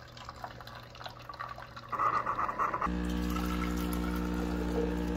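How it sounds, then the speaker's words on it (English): Keurig coffee maker brewing into a cup: quiet trickling and dripping at first, then a louder hiss of liquid pouring, then a steady mechanical hum of the pump running, all close by. "Sing the song of your people, Keurig!"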